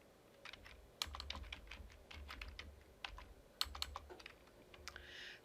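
Data being typed on a computer keyboard into a spreadsheet, quiet, irregular clicking keystrokes in short bursts with brief pauses, close and alone with no talking.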